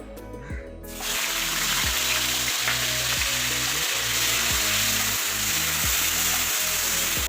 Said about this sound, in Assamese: এতিয়া মই ইয়াতে লোৱা 3টা মিডিয়াম চাইজৰ পিঁয়াজ এনেকৈ ৰুকি লৈছিলোঁ, পিঁয়াজখিনি তেলত দি লওঁ